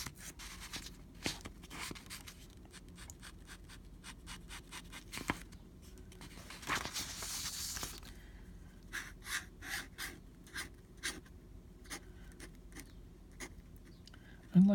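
Flexible-nib fountain pen drawing cartoon faces on paper, close soft scratching strokes in short repeated bursts with brief pauses, faint and intimate, with a person talking at times.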